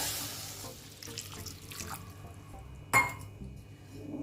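Half a cup of water goes into a kadai holding onions, tomatoes, ginger and garlic, a soft liquid splash and trickle that ends in a sharp clink and brief hiss around the three-second mark.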